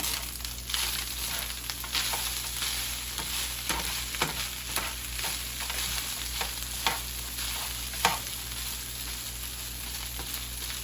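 Fried rice with black pepper frying in a pan, with a continuous close sizzle and repeated scraping stirs of a spatula at an irregular rhythm, with a low steady hum underneath.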